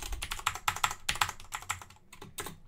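Fingers rattle across a computer keyboard typing a terminal command, a fast, uneven run of close, crisp key clacks with brief pauses and no voice.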